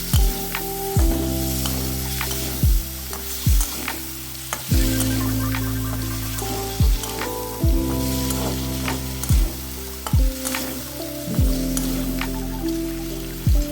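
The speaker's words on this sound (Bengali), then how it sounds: "এবার 1 চামচ টক দই দিলাম। এখন নেড়ে চেড়ে নিচ্ছি।" Potatoes with a spoonful of sour yogurt sizzle steadily in a pan while a spatula stirs, giving repeated scraping strokes about once a second over the constant frying hiss.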